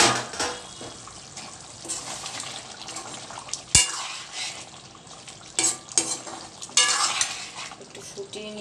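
Meat reheating and simmering in a pan in a home kitchen, a steady bubbling hiss with scattered clinks of a utensil against the pan and a sharp knock midway.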